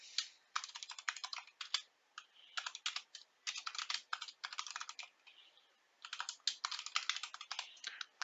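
Quick bursts of keystrokes on a computer keyboard as a document name is typed, rapid clicking in clusters with short pauses between, close and clear, with no voices.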